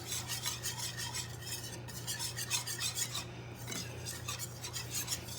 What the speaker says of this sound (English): And we're going to mix this, whisk this together really good.